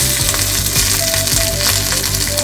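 Asafoetida, dried red chilies and curry leaves crackle and sizzle loudly in hot oil as a tempering, a steady dense hiss with brief popping bursts throughout.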